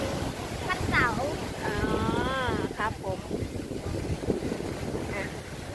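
A jet ski runs on the sea on a cold evening, its motor droning while strong wind buffets the microphone and a few voices speak over it.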